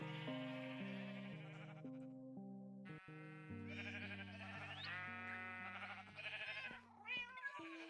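Repeated sheep bleats in Minecraft ring out over a steady musical backing, the cries layered and continuous, loud and close in a synthetic, game-like mix.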